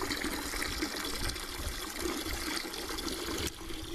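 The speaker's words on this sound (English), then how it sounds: "we'll get about a half a bucket of water" Water runs into a 5-gallon bucket on a homestead, a steady splashing gush that keeps going for the whole stretch, heard close with no talking.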